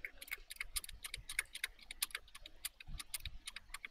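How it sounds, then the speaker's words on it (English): Rapid, uneven clicking of a computer keys being struck during a late-night gaming session, sharp close taps running continuously with no talk. "why do you have to click your goddamn keyboard like that?"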